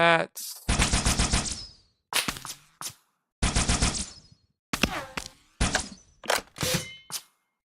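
A Needler from the Halo video game fires in short bursts of rapid, crackling shots with metallic ringing tails, separated by brief silences, loud and close with no talk over it.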